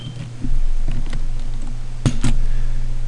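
Keys clicking on a computer keyboard during installation of VMware Server 2.0, a few scattered taps and then two sharper strokes over a steady low hum, close and fairly clear with no talking.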